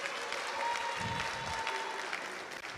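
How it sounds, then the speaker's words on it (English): An audience applauds at a town hall meeting in Bolgatanga, a steady wash of many hands clapping from a crowd at moderate distance, with a few indistinct voices underneath. "But you should clap for someone like that."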